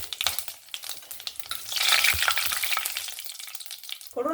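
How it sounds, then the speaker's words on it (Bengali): Whole garam masala, cumin seeds and two bay leaves crackling in hot ghee, with dense popping spatters that swell into a louder hiss midway, ending in a brief clatter, no voices. "ফোড়নে দিয়ে দেবো গোটা গরম মশলা আর জিরে আর দিয়ে দেবো দুটো তেজপাতা"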